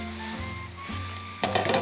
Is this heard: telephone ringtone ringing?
no